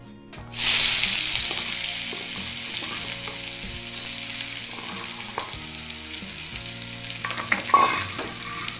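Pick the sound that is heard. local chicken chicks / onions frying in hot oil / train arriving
onions frying in hot oil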